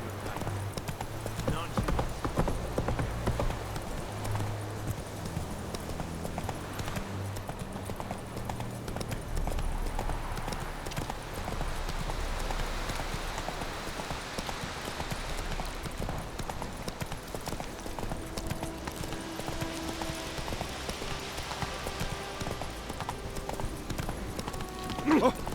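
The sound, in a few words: horse Roach galloping, hooves, in video game The Witcher 3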